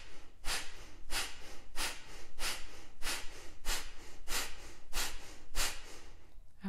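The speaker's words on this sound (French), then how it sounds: "il y a comme un souffle qui sort qui est assez rapide" Rapid, forceful yoga breaths expelled through the nose in a steady series of about ten sharp exhalations, close and evenly spaced, with no talking.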